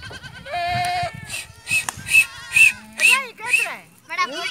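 Goats of a Bakarwal herding family bleat repeatedly in a quick series of loud, wavering calls close by, one after another.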